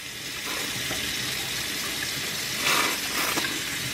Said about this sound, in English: inserting the syringe in the water and just pump and dump